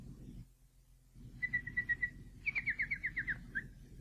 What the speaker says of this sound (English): do you hear that nightingale singing in the wood?